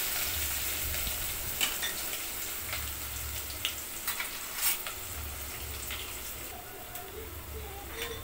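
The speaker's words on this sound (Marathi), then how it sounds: "ते चांगलं तळतळलं की आपण त्याच्यामध्ये कांदा घालून घेऊया" Onion, mustard seeds and curry leaves fry in hot oil in a pot for hotel-style dal khichdi, a continuous close crackling sizzle with occasional clicks and a faint low hum beneath.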